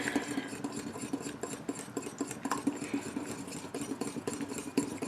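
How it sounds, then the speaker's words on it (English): A whisk beating oil into homemade mayonnaise in a bowl, a steady fast scraping and rattling rhythm, close and moderately loud, with no talking. "All the while whisking like crazy."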